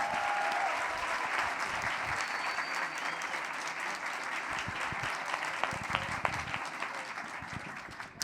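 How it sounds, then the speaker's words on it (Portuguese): Steady, continuous audience applause at a literary panel on a festival stage, a dense, even wash of clapping that holds for several seconds with a few sharper claps near the end. "Mais uma grande salva de palmas, por favor."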